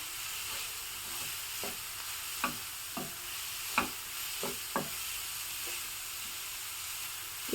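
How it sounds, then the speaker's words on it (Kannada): Food fries quietly in a pan with a soft, continuous sizzle, broken by a scattering of light spoon taps and scrapes as it is stirred. "ಇದಿಲ್ಲಿ ಚೆನ್ನಾಗಿ ಫ್ರೈ ಆಗ್ತಾ ಇರಲಿ."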